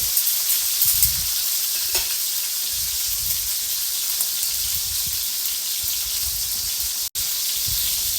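Meat frying in a hot pan until crusty gives a loud, steady, close sizzle and hiss throughout, with faint low stirring or scraping now and then and one abrupt brief dropout near the end.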